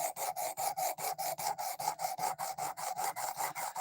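A factory-dull 440 steel knife edge being reground by hand on a sharpening stone, a steady back-and-forth rasp of about four strokes per second, close and fairly loud, with no talking.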